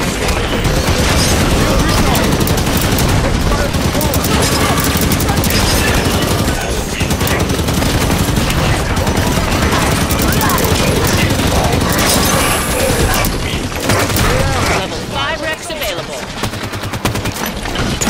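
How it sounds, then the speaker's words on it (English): Promethean soldiers in Halo 5 open fire during a Warzone Firefight round, dense rapid automatic bursts, booms and clatter overlapping nonstop at close range, with a voice talking under the barrage. "Taking fire from the soldier!"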